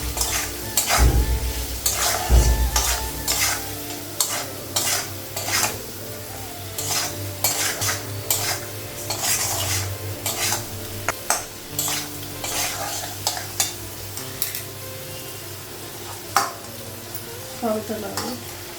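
Potatoes frying in oil in a pan in a home kitchen, a steady sizzle broken by repeated scraping and clinking as a utensil stirs them against the metal, loud and close.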